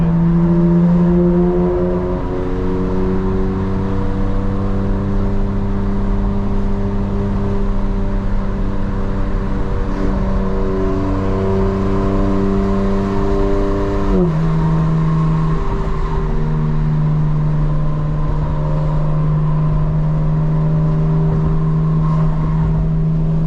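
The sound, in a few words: 2025 BMW M4 Competition car driving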